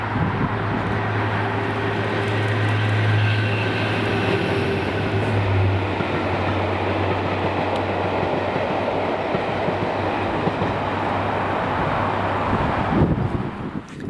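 A train on the Fife Circle line at Dalgetty Bay rumbles past close by, a loud continuous roar of wheels and rail noise with a steady low hum holding for the whole stretch.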